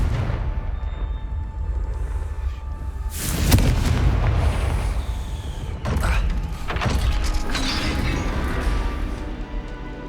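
Confringo spell striking a gate in the game Hogwarts Legacy produces a heavy blast with crashing, creaking debris, followed by further booming impacts and mechanical grinding over a low rumble.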